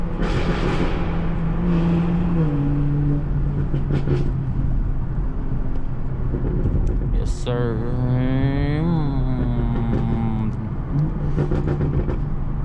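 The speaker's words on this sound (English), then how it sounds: "Downshift in the tunnel." A car downshifts and revs hard inside a tunnel, the engine note climbing in a rising sweep and then settling into a steady drone, loud and close throughout, with a brief spoken reply near the start.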